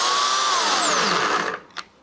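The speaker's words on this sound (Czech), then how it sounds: "Pila nám jede." A Bosch GAC 250 electric aerated-concrete chainsaw runs loud and close, its whine steady at first, then sliding down in pitch as it winds down and stops, leaving a brief clatter.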